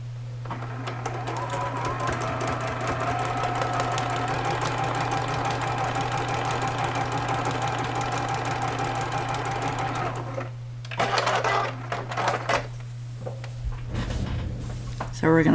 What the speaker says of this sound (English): Now let's bring this over to the sewing machine.